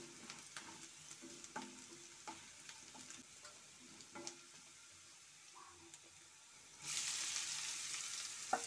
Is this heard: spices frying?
yes